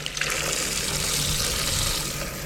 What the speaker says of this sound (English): First, let's give them a rinse.